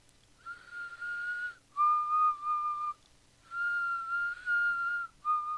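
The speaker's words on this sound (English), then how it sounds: "sometimes what you hear is what makes a scene scary. For example, Negan's whistle" Negan's slow whistled tune from The Walking Dead, a few sustained, wavering notes in two phrases separated by a pause, clear and solitary against a quiet background.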